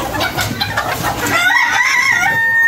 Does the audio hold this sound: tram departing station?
no